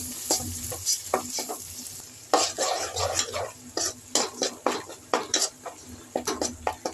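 Mookkirettai greens tossed into frying onions in a pan and stirred, bringing a dense run of spatula scrapes and clatters against the pan over a bright sizzle, close and fairly loud with no voices.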